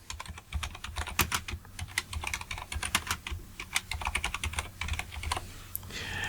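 Computer keyboard typing while entering a name during a Photoshop compositing session: a steady run of quick, close, crisp key clicks with irregular rhythm and no voices.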